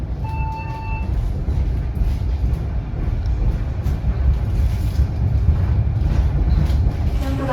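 Argo Merbabu passenger train pulling into Cirebon station, heard from inside the carriage: a steady low rumble of wheels and car motion with brief faint tones early on.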